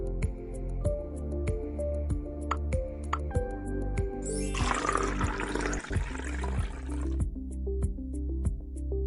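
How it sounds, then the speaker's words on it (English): Vinegar, tinted with food colouring, is poured from a flask into the opening of a home-made volcano, giving a brief gurgling splash midway over steady background music. "Pour the vinegar into the opening of the volcanic mountain."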